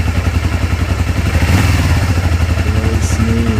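A Honda VTR250 motorcycle engine idles steadily and close by after a spark plug change, with a continuous low throbbing rumble and a brief swell partway through.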